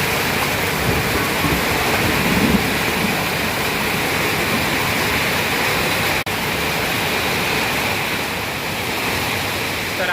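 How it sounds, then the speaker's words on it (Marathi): Heavy, steady rain roars continuously, a dense wash of noise with no letup. "इतका पाऊस पडतो ना आता बाहेर"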